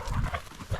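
Quail-hunting bird dogs moving outdoors near a river: brief rhythmic breathy pants and thumps of movement, close and loud, with no talking.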